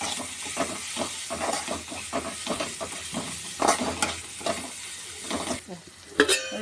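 Turmeric powder is stirred into cooked tomatoes in a pan for dry fish curry, giving a run of quick, rhythmic scraping strokes over a soft, continuous sizzle, with one sharper clink near the end.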